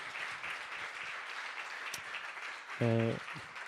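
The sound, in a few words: audience applause for the organising team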